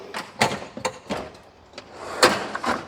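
Drawer of a home mechanic's toolbox sliding, with several sharp metallic clunks and rattles spread over a few seconds, close and moderately loud with no talking.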